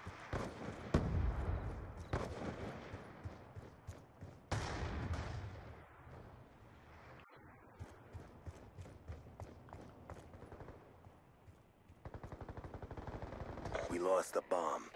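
Rapid bursts of gunfire in a first-person shooter match, with sharp repeated shots clustered in volleys across the clip, loud and close, with game voice lines and a player talking over parts of it.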